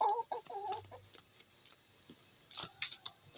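Chickens cluck a few times close by at the start, followed by quieter scratching and light jangling sounds, and a couple of sharp clicks near the end.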